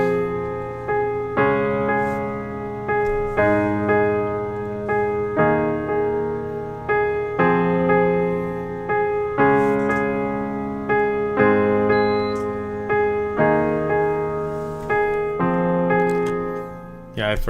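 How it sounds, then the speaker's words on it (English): Sustained piano chords open an orchestral pop track, struck in a slow, regular progression roughly every second or so, each chord ringing out and decaying before the next, played loud and alone. "So the intro piano sounds like this."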